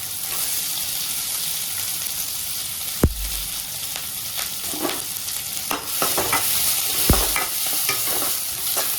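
Shallots and green chillies sauté in hot oil, a continuous close sizzle with scraping stirring strokes throughout and a couple of sharp knocks against the pan.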